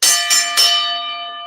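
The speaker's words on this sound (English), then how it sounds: "that's the last bell." A single bright bell struck three times in quick succession, each ring decaying into a clear sustained tone, loud and close at the close of a broadcast program.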